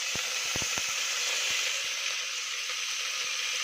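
Mint leaves hit hot oil in a frying pan with a steady, close sizzle and hiss, broken by a few sharp crackles and pops near the start.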